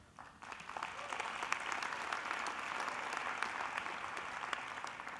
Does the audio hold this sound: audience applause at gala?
yes